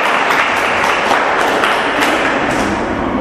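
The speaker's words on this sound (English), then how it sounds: "A huge round of applause," A studio audience on a radio quiz show gives a dense, steady round of applause, loud and close, with occasional heavier thumps in the clapping.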